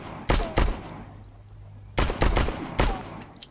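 Sulfur bullets fired from a gun in the game StarForge, heard as two loud pairs of close gunshot bursts separated by a short pause.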